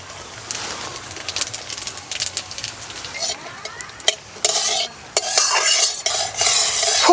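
Dried chilli, bay leaf and whole cumin dropped into smoking-hot mustard oil, giving bursts of loud spitting sizzle alongside scraping and clinking of a utensil stirring in the pan.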